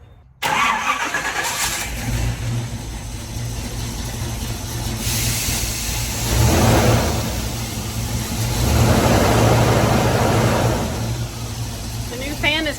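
A car engine cold-starting after sitting overnight, catching and settling into a steady idle that surges a couple of times, close and loud, with people talking over it.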